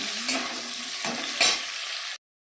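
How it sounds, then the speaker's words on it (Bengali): Cauliflower florets sizzle loudly in hot oil in a pan, a constant close crackle broken by a few louder stirring bursts, with no voices before it cuts off. "ফুলকপিগুলো আমি একটু ভেজে নেবো ভালো করে"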